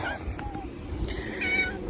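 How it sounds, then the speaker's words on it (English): A cat meows softly a few times in a workshop where an IH 1586 tractor is being painted, faint thin cries over low background rumble and noise. "Kitty cat."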